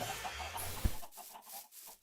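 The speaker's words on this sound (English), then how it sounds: "Poor chickens." Chickens in the Minecraft video game give short clucks, close and moderately loud, with a soft thump partway through and game ambience underneath.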